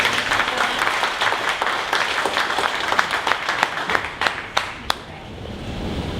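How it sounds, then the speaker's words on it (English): Audience applause at a 1 Million Cups Dallas startup pitch event, a room full of steady clapping with sharp individual claps standing out before it thins and fades near the end. "All right, another round of applause."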